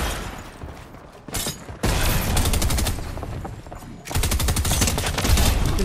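Gunfire in the video game Fortnite: rapid automatic bursts crackle loudly and densely, a short volley followed by two long sustained streams of shots with a brief lull between them.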